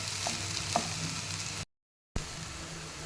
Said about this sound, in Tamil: வெண்டைக்காயை போட்டு நல்லா கிளறி விட்டுக்கோங்க.